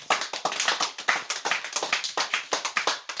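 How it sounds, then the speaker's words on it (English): A church congregation claps for Jesus, with brisk, rhythmic hand claps repeating in a quick, even pulse throughout, close and clear with no talking. "Clap for Jesus."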